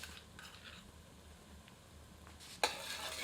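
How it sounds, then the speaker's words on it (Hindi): Crushed ginger, garlic and green chilli hit hot oil with onions in a copper lagan, giving a sudden loud sizzle near the end after a faint, quiet stretch of low stirring. "मिलाकर 3 से 4 मिनट मध्यम आंच पर भूनते हैं।"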